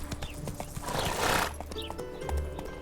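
A horse in The Witcher 3 whinnies and gallops, with quick clip-clop hoofbeats and a loud neigh swelling midway through a short, close burst.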